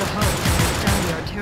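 Rapid bursts of gunfire from the Manhunt 2 video game, loud and continuous with repeated shots blending into a dense barrage, while someone shouts excitedly over it.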